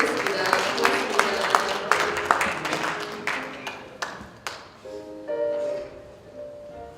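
Audience applause at a 2015 win-win cooperation conference: a dense patter of clapping for the first few seconds that fades out, leaving quieter room sound with some tonal background.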